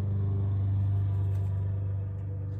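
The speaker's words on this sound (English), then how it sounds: "Excuse the lawnmower noise in the backyard." A lawnmower cutting grass in a backyard, a steady low engine rumble droning continuously throughout, fairly prominent with no talking.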